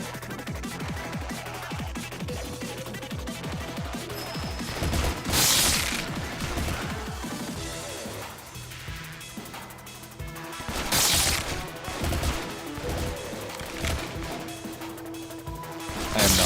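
Rapid gunfire bursts and crashing impacts from the video game Lobotomy Corporation, loud and dense with a couple of heavier blasts, layered over game music and effects.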